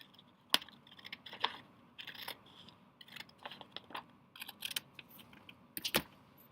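Quilt fabric triangles are cut apart with scissors, giving a series of soft, close snips and crisp clicks at irregular intervals, a couple of them sharper and louder, with no talking.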